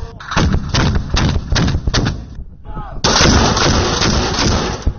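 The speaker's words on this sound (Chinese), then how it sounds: "火力打击群分别采用多种射击方式对地面目标实施火力覆盖" Mortars and artillery fire during a military offensive exercise in high-altitude mountain terrain, with loud, close repeated blasts in quick succession, then a sustained roaring barrage.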